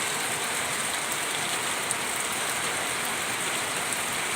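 Rain falls steadily and close by, a thick continuous patter with no pauses and no voices.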